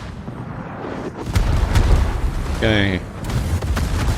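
Naval gunfire from a Gearing destroyer in World of Warships, a few booming shots and rumbling impacts under a player's brief spoken remark.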